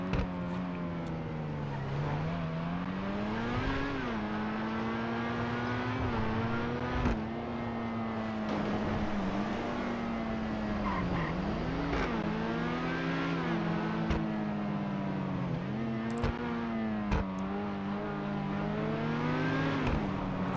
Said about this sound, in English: this is a pretty beast of a supercar, by the way, the Turismo Omagio